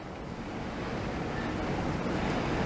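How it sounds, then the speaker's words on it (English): Strong wind blows outdoors around a hunting stand, a loud continuous buffeting roar with heavy low rumble against the microphone and no voices. "Wind's blowing about Mach 80."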